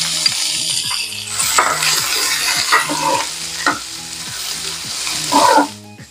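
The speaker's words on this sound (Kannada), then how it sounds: "ಈರುಳ್ಳಿ ಸ್ವಲ್ಪ ಚೆನ್ನಾಗಿ ಬೇಯಬೇಕು, ಸ್ವಲ್ಪ ಕಲರ್ ಗೋಲ್ಡನ್ ಬ್ರೌನ್ ಬರೋವರೆಗೂ ಈ ಥರ ಫ್ರೈ ಮಾಡ್ಕೊಳ್ಳಿ." Chopped onions fry in about two to two and a half spoons of hot oil, a steady broad sizzle with repeated scraping stirs of a spatula against the pan and a louder clatter near the end, under a faint music bed.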